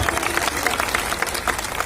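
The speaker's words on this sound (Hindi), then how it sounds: "जोरदार ताली बजाओ भाई" Continuous applause from a large crowd at a political rally in Mau, a dense wash of clapping with no breaks, loud and close for the whole stretch.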